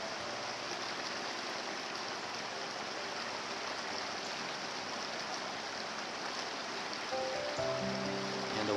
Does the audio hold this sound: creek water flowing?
yes